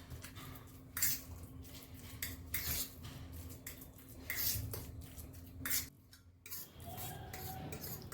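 A spoon mashes cooked vegetables with curd in a bowl for baby food, giving soft squelching strokes and light clinks of metal on the dish in an irregular rhythm, quiet and close with no talking.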